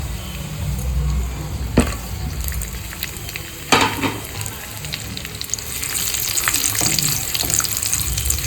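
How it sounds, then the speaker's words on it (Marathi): Dry fruits shallow frying in ghee in a pan for carrot halwa, a close continuous sizzle with a few sharp stirring clacks, growing slightly hissier toward the end, no talking. "ड्रायफ्रूट्स सर्वप्रथम आपण चांगले परतून घेणार आहोत"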